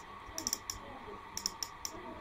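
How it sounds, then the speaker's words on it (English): A toy caterpillar's small plastic winking head turning all the way around, giving a quick series of light sharp clicks in two bursts over a quiet background. "Quite a bit scarily goes all the way around, clicking."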